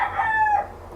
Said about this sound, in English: Excuse the chickens.